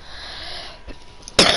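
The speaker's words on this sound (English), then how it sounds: "sorry if you hear me cough because I'm still sick" A single sharp cough bursts out near the end, loud and close after a quiet stretch of faint background hiss, from someone who is sick.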